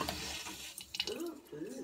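Water runs from a tap just after a water filter installation, a brief close gush with drips and sputters, while people talk over it.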